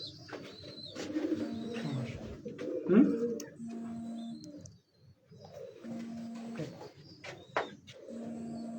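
Pigeons coo repeatedly in low, soft, rhythmic calls, nearby on a rooftop, with faint rustling and background noise between the calls.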